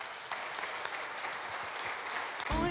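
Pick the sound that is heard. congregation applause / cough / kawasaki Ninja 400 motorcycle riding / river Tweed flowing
congregation applause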